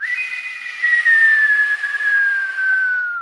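A person imitates a long whistle heard coming through the woods, a single sustained high whistle lasting about three seconds, loud and close, slowly dropping in pitch with a breathy hiss.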